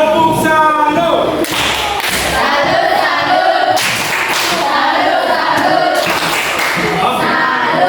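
A school class performs a rhythmic salute clap together, loud dense percussive hand claps and thumps in bursts, with children's voices chanting along throughout.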